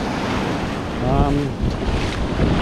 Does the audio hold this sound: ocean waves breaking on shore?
yes